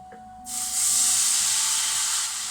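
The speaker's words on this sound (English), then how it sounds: "Let's just deglaze that. So this is deglazing." Liquid hits a hot pan while bolognese sauce is being deglazed, setting off a sudden loud sizzling hiss that swells and holds steady for a couple of seconds before easing slightly; no voices.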